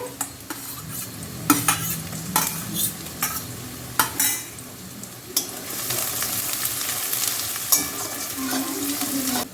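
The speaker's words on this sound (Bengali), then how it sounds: "একটু হালকা ভেজে ভেজে নেবে কালারটা একটু চেঞ্জ হলো তারপরে বাকি মশলাগুলো দেবে আর রসুন কুচিগুলো দিয়ে দিচ্ছে" Chopped garlic and spices frying in oil with onions during a restaurant-style tadka, stirred by spatula; repeated scraping strokes and clinks over a steady sizzle that grows louder and denser in the second half, no talk.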